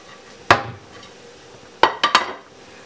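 Sharp knife strikes on a cutting board while a large piece of beef liver is cut into pieces: one knock, a pause, then three quick chops in close succession, crisp and near with no talking.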